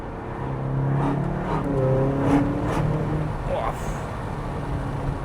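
A video game car engine hums and revs steadily with rising and falling pitch, close and continuous, while people talk over it.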